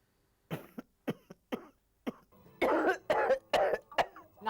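A string of coughs from an elderly woman, short bursts at first, then heavier, harsher coughing fits, close by with no talking.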